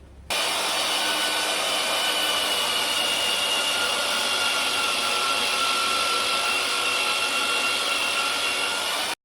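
A magnetic drill runs with a steady, loud, continuous motor whine and broadband roar, starting abruptly and holding evenly throughout with no talking.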